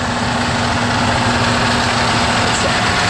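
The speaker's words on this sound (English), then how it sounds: "Okay, here's the powerhouse right here. The train engine." Verde Canyon Railroad train locomotive engine idling up close, a loud, steady mechanical drone with a constant hum and vibration throughout.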